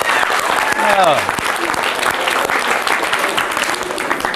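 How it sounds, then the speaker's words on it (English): Audience applause at a Berkeley Institute school gathering, loud sustained clapping with a brief voice and a whistle-like cheer near the start. "give them a round of applause"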